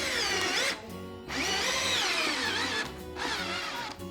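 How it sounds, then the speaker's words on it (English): A power drill drives 3-inch screws into a rubber spare tire, two long, loud whining bursts with rising and falling pitch, separated by short pauses, close up and without talk. "now it's time to screw in our 3-inch screws"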